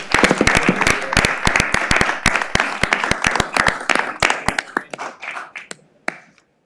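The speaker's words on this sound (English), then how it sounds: "Let's give them another big round of applause, you guys." Applause at a city council meeting, a modest group clapping in distinct, close, sharp claps that thin out and trail off to a few last claps and silence.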